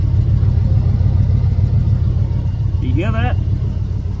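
A small-block truck engine idles steadily with a carburetor newly swapped in, a close, constant low rumble running throughout while someone briefly speaks over it.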